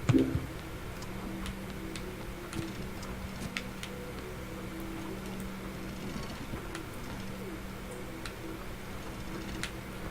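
A clock in the Human Fall Flat video game ticks steadily and evenly throughout, quiet and unbroken over a low background hum.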